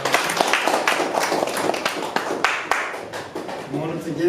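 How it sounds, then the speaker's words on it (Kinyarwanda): An audience at a 2022 recognition ceremony claps in a dense, crackling burst of applause, with voices talking underneath. "Tuma amashyi menshi cyane"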